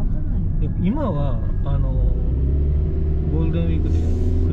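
Heavy road traffic on a Golden Week holiday in Yoshino, with a steady engine rumble close by and a car passing, while people talk over it throughout.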